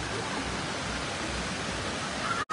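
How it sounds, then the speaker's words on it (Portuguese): Water from the Araras reservoir, swollen after heavy rains, gushes over its spillway in a constant, loud, broadband roar with no pause, briefly cut by a dropout near the end. "Olha o tanto d'água aí jorrando."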